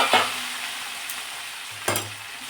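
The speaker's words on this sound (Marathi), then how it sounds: "आता या शेंगा आपण या फोडणीमध्ये मिक्स करून घ्यायच्या." Cooked drumstick pods are stirred into a hot spice tempering with chili powder, giving a continuous sizzle with two distinct scraping stirs of the spoon against the pan, close and clear.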